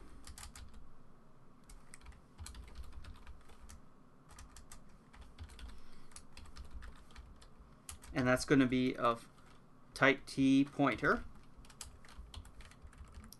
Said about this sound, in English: It's kind of interesting trying to talk while typing.